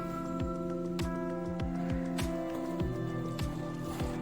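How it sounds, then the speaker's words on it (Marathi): Momo dough made from flour with a little curd is kneaded firmly by hand with small additions of water, giving a quick series of close, soft squishing and slapping pulses at a steady rhythm. "थोडं थोडं पाणी टाकून पीठ मळायचं आहे."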